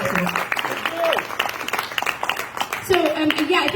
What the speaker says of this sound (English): one more round of applause for Samuel